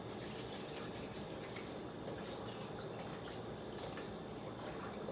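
Store-bought beef broth pours into a Dutch oven, a soft continuous splashing and trickling with small drips, faint and close, with no talking.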